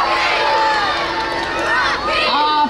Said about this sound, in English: Give us a big cheer for the Rockies.